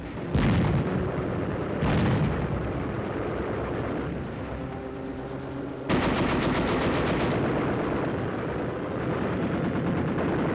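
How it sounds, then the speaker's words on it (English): Machine gun fire and explosions from a WWII German attack on a Dutch strongpoint near Moerdijk, with two heavy blasts followed by rapid rattling automatic bursts over a continuous loud rumble. "Under cover of machine gun fire"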